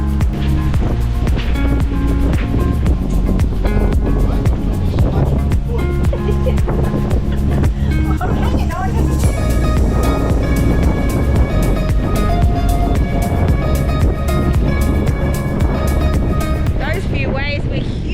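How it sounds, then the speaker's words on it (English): Large ocean waves of about two to three meters roll against a sailboat at sea, a steady loud wash of surf and water noise running throughout, mixed with what sounds like background music and some voice. "The waves are starting to get a bit larger."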